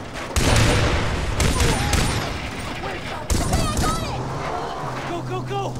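Heavy gunfire from the Far Cry 3 video game, loud bursts of rapid shots and booming blasts running through most of the stretch, with a voice shouting urgently over the shooting.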